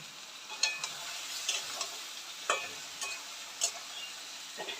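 Small fresh bele fish fry in oil with a soft, steady sizzle, broken by several sharp ticks and clinks of a utensil against the pan, fairly quiet and close.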